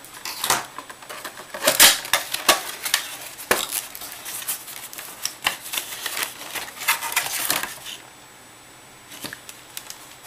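A Walgreens non-contact thermometer box is opened and unpacked, giving a run of close, sharp cardboard and plastic clicks, taps and rustles in uneven bursts, easing off near the end.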